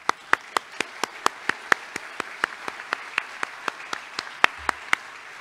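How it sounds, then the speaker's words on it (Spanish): An audience at an opening ceremony for a Central American literary event claims in steady, evenly spaced rhythmic applause, sharp distinct beats repeating for several seconds without speech. "Más aplauso para ustedes."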